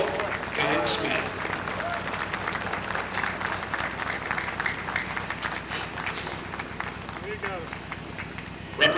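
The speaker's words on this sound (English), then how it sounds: "Please have a round of applause for our Air Force Marshal" Spectators at a veterans recognition parade clap in steady, sustained applause that holds for several seconds, dense and moderately loud, with voices underneath.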